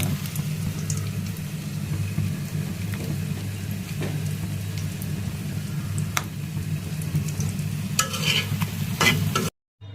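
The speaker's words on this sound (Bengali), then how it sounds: "পেঁয়াজ আর ডিম এখানে হালকা হালকা ভেজে নিলাম" Onion and egg frying lightly in a pan, with a continuous close sizzle and repeated scraping of a stirring utensil, cut off by a brief silence near the end.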